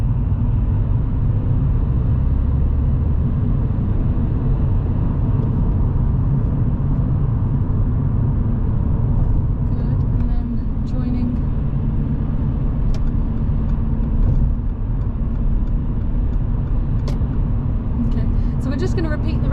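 A learner car's engine hums and rumbles continuously during a driving lesson on multi-lane roundabouts and dual carriageways. It is a steady, loud in-cabin drone with a voice talking over it.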